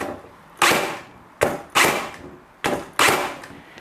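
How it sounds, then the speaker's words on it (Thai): A Makita 40V cordless nailer driving nails into rubberwood, firing five times in quick irregular succession, each shot a sharp close snap followed by a short whirring reset, loud and alone without talk. "เดี๋ยวลองยิงกับตัวไม้พาราบ้างนะครับ"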